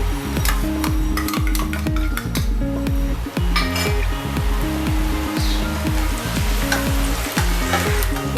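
Chopped garlic frying in a few spoonfuls of refined oil, a loud close sizzle with brisk, rhythmic metal stirring and clinks against the pan throughout, with no voices.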